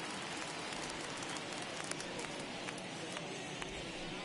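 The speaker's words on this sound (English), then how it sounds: "we've mentioned the conditions aren't ideal with the rain coming down" Steady rain falls on a ballpark in the MLB The Show 21 baseball game, a constant hissing patter with scattered sharper drop ticks, moderately faint and unbroken for the whole stretch.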